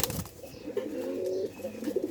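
A pigeon coos close by, a steady low throaty warble that rolls on through the whole stretch with slight breaks, with no one talking.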